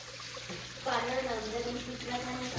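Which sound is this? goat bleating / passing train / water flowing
water flowing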